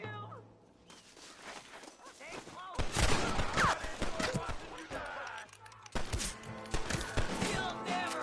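Red Dead Redemption gunfight with a volley of revolver and rifle shots, sharp repeated cracks coming in dense bursts, loud and close amid shouting voices.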